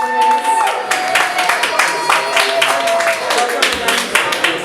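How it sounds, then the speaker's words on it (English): An audience at a student union election hustings gives a round of applause, a burst of many hands clapping with some cheering, steady and fairly loud, with voices mixed in. "So everybody guys, round of applause,"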